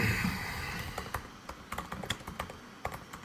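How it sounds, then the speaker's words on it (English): Rapid, uneven typing on a computer keyboard, a run of crisp clicks and taps at close range with no one talking over them. "No, don't start typing now, Ron."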